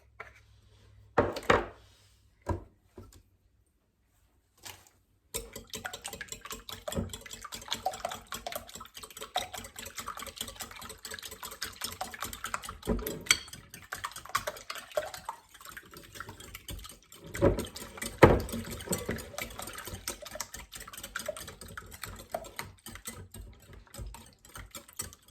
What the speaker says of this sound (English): Whisk this together now.